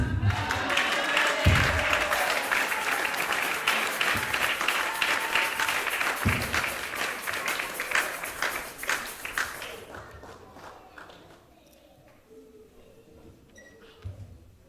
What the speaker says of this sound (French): Acclamons très fort pour la gloire de l'Éternel.